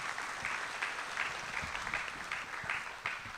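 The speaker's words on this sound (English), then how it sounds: "Let's give those individuals a round of applause." Crowd at an 8th grade promotion ceremony giving a round of applause, dense continuous clapping with a slightly pulsing texture, somewhat distant and even throughout.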